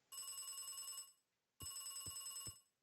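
An old-style phone bell rings twice in the game Beacon Pines, two bright trilling bursts about a second long separated by a short pause, faint and alone.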